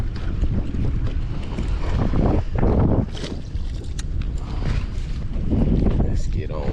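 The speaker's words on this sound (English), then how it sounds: "This wind is ripping." Strong wind buffeting a fishing boat on Lake Guntersville during bass fishing, a steady loud roar of gusts and microphone wind noise with some water splashing; someone talks intermittently over it.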